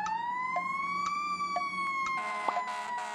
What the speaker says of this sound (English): That's the sound of a fire truck headed to an emergency.